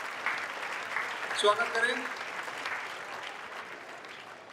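Audience applause at a Holi Milan gathering, a steady broad clatter of clapping that fills the whole stretch, with someone speaking over it through a microphone.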